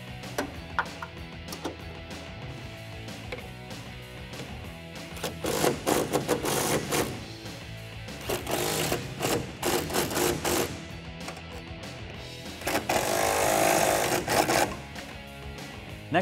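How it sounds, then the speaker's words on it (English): A power driver runs a T40 Torx bit to tighten bolts on a truck bed, its motor buzzing in several bursts of varying length, fairly close and loud, with clanking of hardware between runs. "now we can take our Torx bit and tighten those down"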